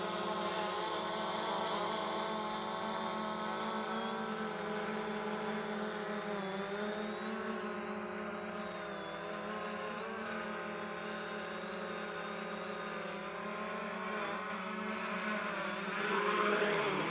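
Steady high buzzing whine of a Fimi X8 SE drone hovering low over deep grass, continuous and fairly close with slight pitch shifts as it holds position, no talking.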